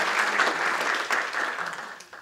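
An indoor audience at an evening geoscience lecture in Peru claps warmly to welcome a speaker, a dense, steady round of applause that fades slightly toward the end, with no talking.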